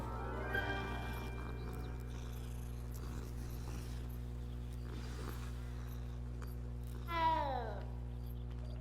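A cat meows twice amid a steady game soundtrack, a short call near the start and a louder, falling meow around seven seconds, both fairly close over low humming background music.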